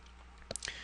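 A character in The Black Cauldron adventure game eats food, heard as a few quiet soft clicks and squishy bursts grouped near the end, with a faint steady hum beneath them.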